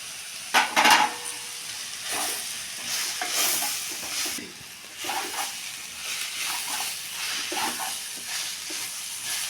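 Roasted peanut powder is stirred into a banana stem stir-fry in a pan, giving a soft, uneven scraping and stirring with a light sizzle. A sharper clatter comes early on, then the stirring continues in gentle strokes with no talking.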